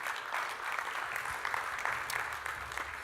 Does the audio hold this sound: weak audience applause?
yes